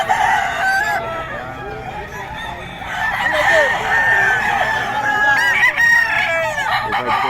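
Farm chickens cluck busily close by while a rooster crows repeatedly, the drawn-out calls rising over the steady flock chatter; a voice is faintly present underneath.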